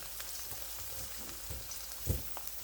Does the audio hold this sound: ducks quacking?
no